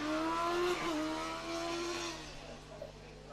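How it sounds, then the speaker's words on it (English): Formula Student race car from Technical University Valencia running an autocross course, its engine note a strong rising and falling whine with gear changes, steady and fairly loud, then fading slightly toward the end. "And what an amazing sound their engine does, really."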